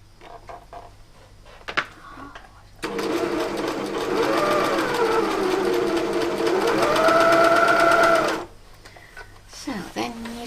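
A sewing machine runs steadily for several seconds while stitching a stretched shirt neckband, loud and close, starting abruptly and stopping, with brief handling clicks before and after.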